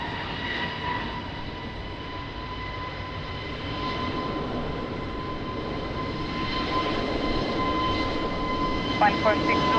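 At a windy, rainy Lisbon Airport, an airplane's engines roar steadily on the runway at takeoff, a broad sustained rumble growing slightly louder with a faint steady whine.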